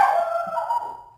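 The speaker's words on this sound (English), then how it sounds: "That's the dog." A single dog gives one drawn-out, whining howl-like bark, loud and close, fading away over about a second with no talk.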